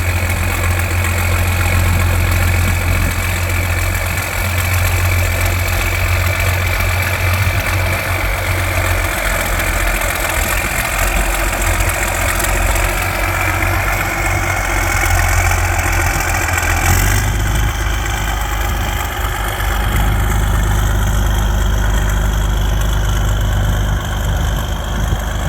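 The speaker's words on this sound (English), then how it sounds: "Original local tractor." An old orange tractor, a local original awaiting restoration, idles with a loud, steady, knocking engine rumble close by, its low chug holding unchanged for the whole stretch.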